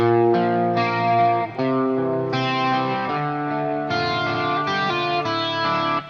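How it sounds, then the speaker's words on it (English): Electric guitar chords from a song ring out one after another, lush and shimmering with a wide stereo chorus effect and echo and delay repeats, played alone at steady volume. "I've got some chorus, some stereo chorus, echo and delay added to it"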